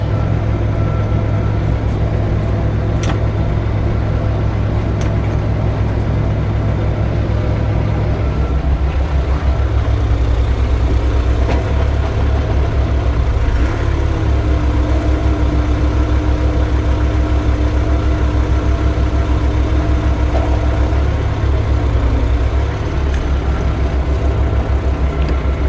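Diesel engine of a CAT TH460B telehandler idling steadily after a hydraulic pump replacement, a loud continuous low rumble with a slight shift in tone partway through and no talking.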